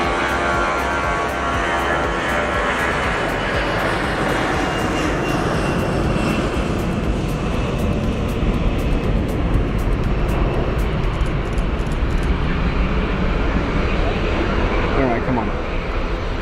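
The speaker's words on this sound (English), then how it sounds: "I thought there was the one. The loud plane." Engines of a 25-year-old Airbus airliner roar loud and steady during takeoff at Madeira's short runway, while people talk over the noise.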